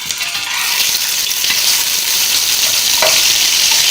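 Constant loud sizzling and spattering of ginger garlic paste frying in a hot pan with browned onions, close up, with occasional stirring scrapes.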